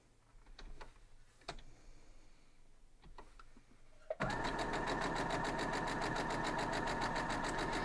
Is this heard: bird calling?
no